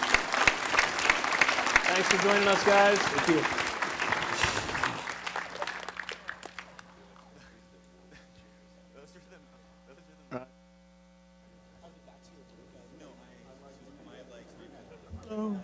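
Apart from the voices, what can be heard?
applause for conference panelists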